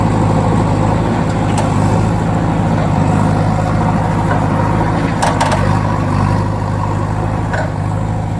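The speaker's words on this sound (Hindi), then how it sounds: "तो ये रही है जेसीबी मशीन।" JCB excavator engine running, a loud continuous diesel rumble and idle with a steady throb, a few faint clicks and knocks on top, no talking.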